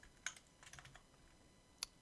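A few scattered keystrokes on a computer keyboard while form fields are typed for an HTML page: two sharp isolated clicks and a short quick burst between them, faint and with no talk.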